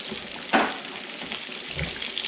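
Chicken pieces frying in hot oil on a stovetop at medium-high heat, a steady bright sizzle close up with a soft clunk early on and no talking.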